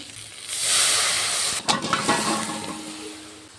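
Water poured into a hot wok to boil taro, a broad rushing hiss that swells, then a few splashing bursts and a fading bubbling sizzle.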